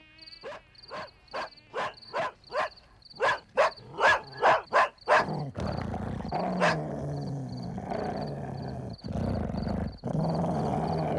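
A dog barks in a quick series of about a dozen sharp, loud, close barks, followed by a rougher growling and roaring stretch with intermittent thumps.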